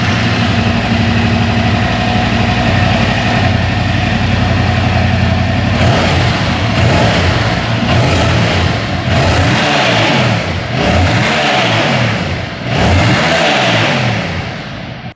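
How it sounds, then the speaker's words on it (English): A Yamaha R7 motorcycle with its stock exhaust idles with a low, steady rumble, then is revved several times in quick bursts, each rising and falling. "here is the stock exhaust note for reference"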